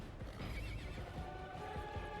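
A horse whinnies over galloping hooves in a fantasy film set in the woods, a loud, close neigh riding above steady clip-clop and rumble for about two seconds.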